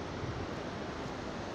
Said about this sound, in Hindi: मेरे पीछे ये जो नदी है पूरी बह रही है